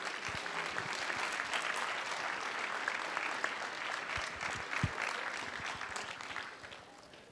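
An audience at a school board meeting applauds students coming forward, a soft, steady round of clapping from a room of people that tapers off near the end.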